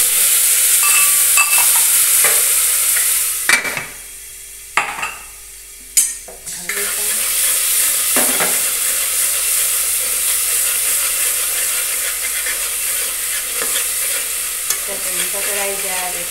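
A tempering of mustard and cumin seeds in hot oil sizzles as asafoetida and curry leaves go in, a loud, close crackle and hiss with brief quieter gaps and bursts as ingredients are added.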